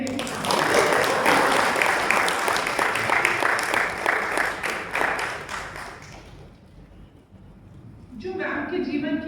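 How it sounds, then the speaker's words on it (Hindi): An audience at a school headmistress's retirement function breaks into loud, sustained applause that gradually fades out, and a voice then starts speaking near the end. "तालियां तो बजाइए।"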